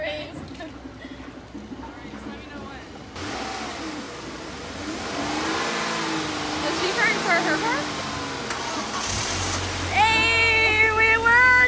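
A car engine catches and revs after a jump-start with jumper cables, rising under excited overlapping voices that end in cheering.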